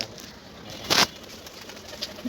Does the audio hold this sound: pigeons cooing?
yes